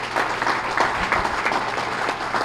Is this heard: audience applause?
yes